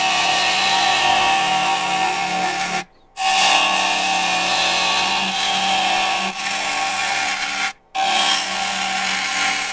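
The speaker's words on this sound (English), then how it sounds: "we'll switch over to the 5/8 inch bowl gouge this one." A 5/8 inch bowl gouge shears across a spinning wooden salad bowl blank with a knot in it, giving loud continuous scraping and rasping broken by two brief pauses where the tool lifts off.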